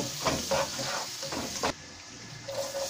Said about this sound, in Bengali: গার্লিক দিয়ে কিছুক্ষণ হালকা ভেজে নেব